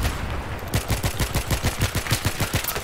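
Gunfire in the video game Battlefield 3 rings out in rapid, evenly spaced loud shots after a quieter opening, a sustained rhythmic volley with no talking.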